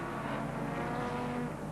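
Ford Sierra and BMW touring cars battling at Lakeside Raceway, a steady loud drone of race engines holding high revs with no break, no talk over it.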